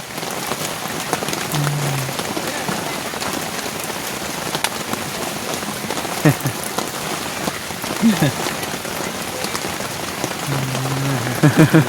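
Rain falling steadily on a surface, a dense continuous patter that runs through the whole stretch, with a few faint low tones and thumps underneath and no talk.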